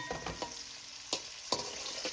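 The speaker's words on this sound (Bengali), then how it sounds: "আমি রসুনটা গোটা গোটা রসুন দিলাম এর মধ্যে একটু" Whole garlic cloves go into a pan of lightly fried potatoes for a bean curry, giving a soft continuous sizzle broken by several sharp scraping stirs of a spoon against the pan, close and without talk.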